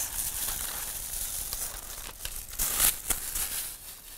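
Adhesive backing being peeled off a Xyron sticker sheet gives a steady crinkling, ripping rustle of paper and film, close and continuous, with sharper tearing bursts partway through.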